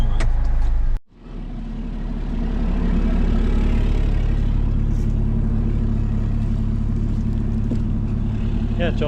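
A farm tractor engine runs while moving a trailer into a shed, a loud, steady low rumble that dips sharply for a moment near the start, then holds a constant drone to the end.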